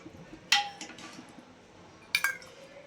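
Ceramic plates and bowls clink as they are set out for a Gudi Padwa festive meal of puran poli and gulavani, two sharp clattering bursts separated by a quiet pause, fairly close.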